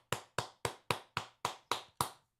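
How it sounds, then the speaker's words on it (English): Eight sharp, evenly spaced claps ring out in a slow, steady rhythm from an audience, close and fairly loud, with no talking. "What the hell are y'all clapping about?"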